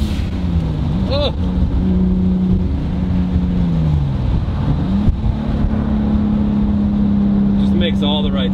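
A 1027-horsepower Lexus IS300 sleeper with a 2JZ engine runs steadily nearby, holding a droning tone that dips once and rises again. Someone speaks briefly partway through.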